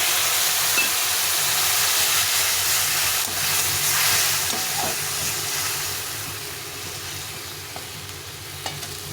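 A spice paste of ground cumin, chili and turmeric hits onions frying in a pan for Dhaba-style ghugni. It makes a loud, close hissing sizzle that eases gradually, with a few light utensil taps and no speech.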